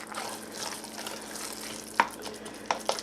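Homemade dog food with carrots being stirred in a bowl, a soft wet mushy churning with a few sharp clinks of the spoon against the container near the end, close and fairly quiet.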